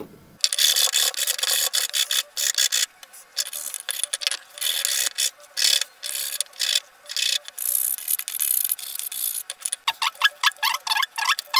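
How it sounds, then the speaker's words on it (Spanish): Sandpaper rubbed by hand over wooden mallet handles in a carpentry workshop, steady back-and-forth rasping strokes in close repeated bursts with brief pauses, continuous and near, no talking. "ahora vamos a proceder a lijar una por una"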